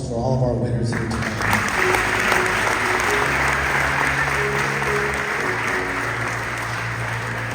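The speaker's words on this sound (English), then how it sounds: "Everyone, one more round of applause for all of our winners here tonight." An indoor audience applauding award winners at a Teacher of the Year ceremony, a dense, steady wash of clapping that rises just after the start and holds loud and close to the end, with a voice over the start.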